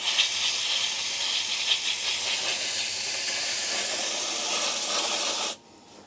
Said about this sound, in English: I'm going to spray off the roots